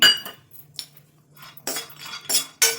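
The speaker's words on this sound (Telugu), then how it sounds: "దీంట్లో ఎండు కొబ్బరి వేసి వేయించుకుందాం" Dry coconut pieces roasting in a pan for a coconut sesame chutney powder, heard as scattered clinks and scrapes of a utensil against the pan, with several louder stirring bursts near the end and no talk.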